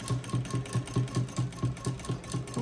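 Sewing machine stitching the front neckline of an umbrella dress, running steadily with a rapid, even needle rhythm of regular thumps, close and continuous throughout with no talking.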